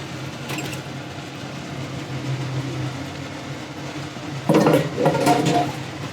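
Minced meat being stirred into tomato sauce in a pot gives soft scraping and wet stirring, then a few louder metallic clanks of a utensil against the pot near the end.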